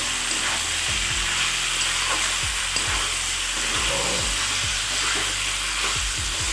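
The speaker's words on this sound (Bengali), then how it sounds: "এবার খানিকক্ষণের জন্য ভালো মতো করে নাড়াচাড়া করে নিতে হবে" Ground spice paste sizzles loudly in a pan for a mixed vegetable sabji, steady frying hiss with repeated scraping strokes of a spoon stirring it, close up and without talk.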